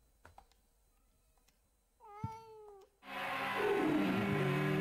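A cat meows in the Silent Hill 4 video game, one clear rising-and-falling meow after a few faint clicks, then a loud wash of broadband game noise takes over.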